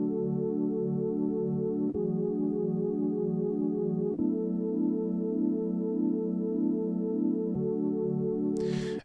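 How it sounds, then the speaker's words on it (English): Tal organ synth playing sustained chords, steady rich harmonic tones that change chord about every two seconds, clean and alone with no other instruments. "We've got the organ again from Tal"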